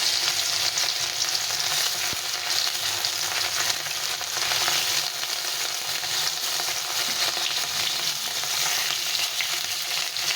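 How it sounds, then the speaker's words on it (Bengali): Fish sizzling steadily in hot oil in a wok, a loud, continuous bright crackle that holds evenly throughout with no talking. "তেলটা বেশ গরম হয়ে গেছে, এখন আমি মাছগুলো ছেড়ে দেব।"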